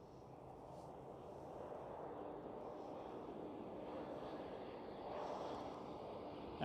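Faint, distant broadband roar of a KLM Cityhopper Embraer E190 airliner at Amsterdam Schiphol, steady and muffled with slight swelling toward the end.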